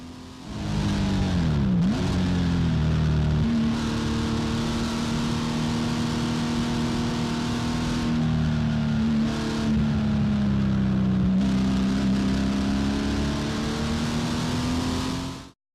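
A race car at Willow Springs holds a loud, steady engine drone close to the microphone while sweeping through turns 3 and 4, with a brief dip and recovery in pitch as it lifts and reapplies throttle, ending abruptly.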